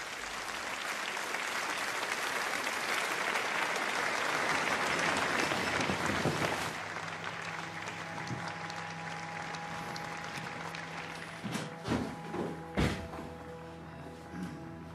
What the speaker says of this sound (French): Dans la salle, des Français et des Allemands applaudissent de concert la fin du premier acte.